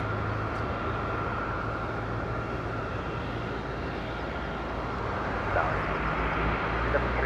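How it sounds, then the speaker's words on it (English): An EasyJet airliner lining up on the runway at Madeira Airport, a steady low jet engine rumble and broad hiss heard from a distance, continuous and even throughout. "EasyJet lining up."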